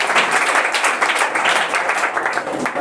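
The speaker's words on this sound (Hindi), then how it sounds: "जोरदार तालियों से आप स्वागत करें।" Audience applause at a school prize-giving ceremony for Bihar board matriculation students, welcoming a student to the stage; dense, steady clapping from a crowd, fairly loud and continuous throughout, with no talking over it.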